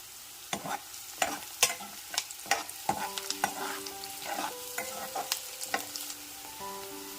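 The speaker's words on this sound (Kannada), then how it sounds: "ಈರುಳ್ಳಿ ಎಲ್ಲ ಇಲ್ಲಿ ಎಣ್ಣೆನಲ್ಲಿ ಫ್ರೈ ಆಗಿದೆ. ಮತ್ತು ಇವಾಗ ಹಸಿಮೆಣಸಿನ್ಕಾಯಿ ಸೇರಿಸ್ಕೊತಾ ಇದ್ದೀನಿ." Onions and green chillies fry in oil for chicken samosa filling, a soft steady sizzle broken by repeated clicks and scrapes of a spoon stirring the pan, with no voices.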